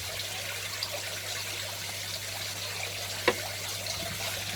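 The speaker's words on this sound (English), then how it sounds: "Hold that up nice and high, let that water drain back down" Water trickles and drains from a raised aquarium siphon pipe into a budget shrimp tank setup, a soft continuous dribble with one brief splash near the end.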